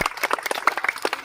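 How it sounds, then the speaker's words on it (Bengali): A small group of people clapping their hands beside a river, a quick irregular run of close, sharp claps with no talking over it. "হাততালি মারেন ভাই, হাততালি মারেন।"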